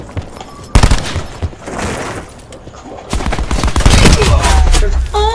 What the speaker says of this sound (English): there's five people shooting at one person